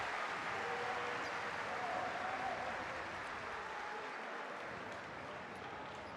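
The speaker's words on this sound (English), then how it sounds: "Schuler is hearing some applause" Applause from spectators at a basketball arena during a Champions League game, a broad, steady wash of clapping and crowd noise heard from a distance, holding evenly throughout.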